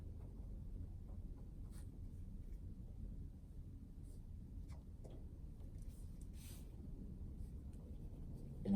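Pen moving on paper during a classroom exchange, soft faint scratching strokes over a low background rumble with no clear talk.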